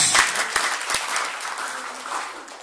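A church congregation at a sermon breaks into brief, dense applause, a loud burst of clapping at first that settles into a softer, steady patter, with faint voices underneath.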